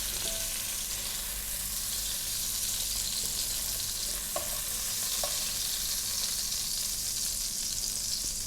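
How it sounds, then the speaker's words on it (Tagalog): Ingredients for pancit canton fry briefly in a pan, giving a steady, moderately loud sizzle with a few soft clinks of a utensil against the pan and no talking. "kailangan iprito natin sandali, tapos itatabi natin, tsaka tayo magpo-proceed sa ating pagluluto ng pansit canton"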